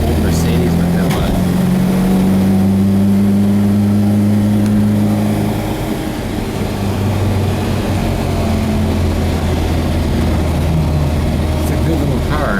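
A 1967 Volvo Amazon 122S station wagon with a B18 dual-carburetor engine drones steadily while driving, its mid-pitched hum holding close and loud with slight shifts in pitch, and a voice talks at times over it.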